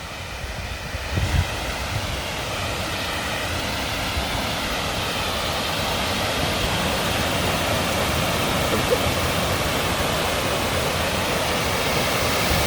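Water from a lake spillway rushes in a steady, loud broadband roar that holds without a break, close by, with no voices over it.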